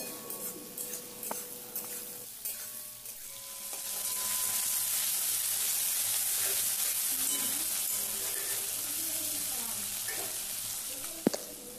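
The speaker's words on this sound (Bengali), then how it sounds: "টমেটোর কুচি দিয়েও আমি ভালো করে নাড়িয়ে চাড়িয়ে নেব।" Onion and chopped tomato frying in a pan starts as faint scraping and tapping, then swells into a steady, moderately loud sizzle while being stirred, ending in a sharp clatter.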